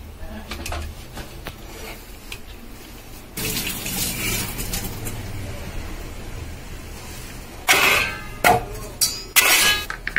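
Boiled bottle gourd pieces being strained: water pours and splashes through a strainer in bursts, with clinks of metal and glass utensils in between, close and fairly loud.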